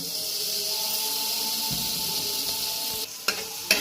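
Butter sizzles in a hot wok with a steady, close hiss, and a few soft knocks and scrapes come toward the end.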